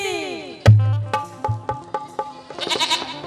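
A goat bleats loudly and near, with wavering cries that give way to a run of sharp rhythmic clicks or taps, followed by a burst of bright jangling higher sounds.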